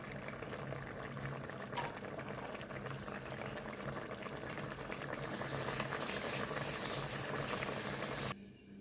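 A vegetarian okra stew, seasoned with salt and lemon juice, simmering in a pot: steady, close bubbling that swells partway through and cuts off abruptly just before the end.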